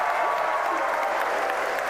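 Crowd at a SpaceX Starship Flight 11 launch cheering and applauding steadily throughout, a dense wash of clapping and shouting that stays at an even, moderately loud level with no clear pauses.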